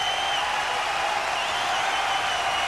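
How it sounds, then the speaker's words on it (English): A huge Wembley Stadium audience cheers after a 1985 concert song, a steady, dense wash of crowd roar that holds evenly throughout at moderate distance. "The audience erupts in cheering."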